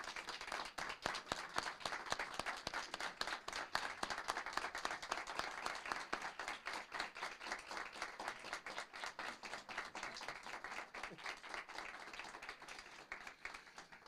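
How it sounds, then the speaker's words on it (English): An audience at a city council meeting applauds a retiring official, with dense, sustained clapping from a room full of people that holds steady and tapers slightly toward the end. "could you please give a big round of applause to Mr."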